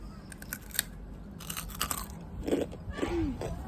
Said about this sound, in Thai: กากหมูเนี่ยคือกรอบที่สุด